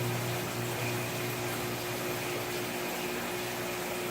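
Cold well water pours steadily into a large 505-gallon fish tank during a water change, a constant close rushing and pumping hiss with no pauses.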